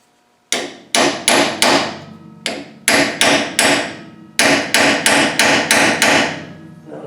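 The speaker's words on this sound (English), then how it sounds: "we can use this chisel instead of that one" A hammer drives a chisel against a snapped bolt, about sixteen sharp, ringing metallic blows in quick bursts with short pauses between groups, loud and close, with no voices.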